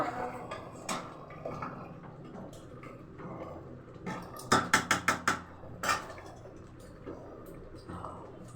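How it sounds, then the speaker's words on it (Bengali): Potatoes being stirred in a cooking pan give soft scraping and a quick run of sharp metallic taps from the spoon against the pan's side. "আলু দিয়ে একটু নাড়াচাড়া করছি"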